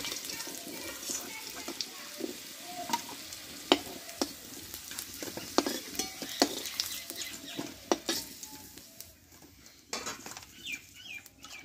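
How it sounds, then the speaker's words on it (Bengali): Whole cardamom, cinnamon and cloves sizzle in hot oil, a faint, crackly hiss with scattered pops and clinks of utensils. "এই তেলে আমি একটা এলাচ দারচিনি লবঙ্গ দিয়ে দিলাম"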